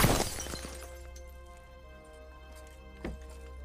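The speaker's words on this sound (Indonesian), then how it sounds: "menembak kaca-kaca mobil kemudian mengeceknya" Car window glass shatters from gunshots in a film scene: a loud burst of breaking glass at the start, then a low steady hum with a second sharp crack-like hit near the end.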